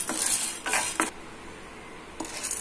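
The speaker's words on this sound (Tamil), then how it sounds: "பேன் சூடானதும் கடலப்பருப்பு போட்டு வறுத்த எடுத்துக்கலாம்." Chana dal dry-roasts in a pan while a spoon stirs it, making a few short bursts of metallic clinks and scraping with quiet gaps between them.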